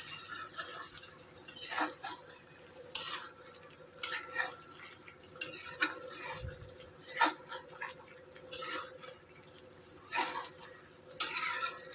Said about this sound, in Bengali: দেখুন সেই কখন থেকে চাপিয়েছি, এখনও পর্যন্ত সেই কষাই চলছে।